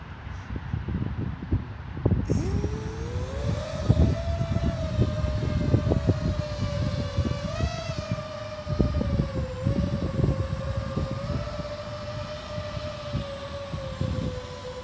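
Eachine Falcon 180 quadcopter on a 4S battery, its motors whining steadily under throttle with a rising, wavering pitch, loud and close, wind buffeting over the drone.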